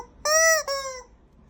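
A voice imitates a chicken, giving a high, drawn-out squawking call in two connected bursts, close and loud.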